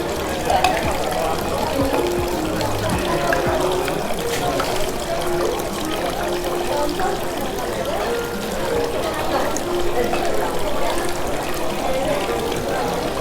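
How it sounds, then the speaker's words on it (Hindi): Water pouring from a dipper at the purification fountain of Senso-ji temple in Asakusa, Japan, a steady trickling splash running throughout amid outdoor crowd noise and someone talking. "हाथ में पानी लेके पीना है"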